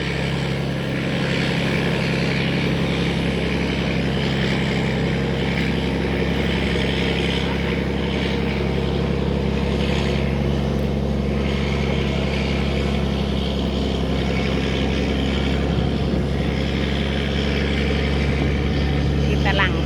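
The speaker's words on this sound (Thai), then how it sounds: "เพราะว่า เครื่องหัวเรือลาดเสียงดังมาก" A loud, steady tugboat engine drones throughout on the Pa Sak River, a deep continuous rumble with mechanical hum, while a voice talks faintly over it.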